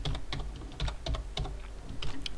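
Rapid, uneven keystrokes on a computer keyboard, close and clear, with quick clustered clicks and brief pauses while writing code, no talking.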